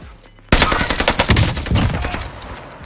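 A PPSH submachine gun in Warzone is fired from the hip in a rapid, loud burst that breaks in suddenly after a quiet moment and trails off into fading reverberation.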